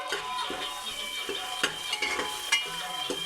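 Ginger garlic paste with ground spices and chillies frying in a pan on a gas stove for chicken biryani, a close sizzle broken by rhythmic spatula scrapes and occasional metallic knocks, no one speaking.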